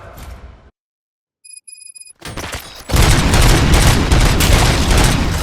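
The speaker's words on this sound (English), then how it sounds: "Gunshots? What's going on?" Gunfire in RoboCop: Rogue City, with a short burst, a silent gap, a few faint electronic tones, then a dense, loud stretch of rapid shots and booms that lasts to the end.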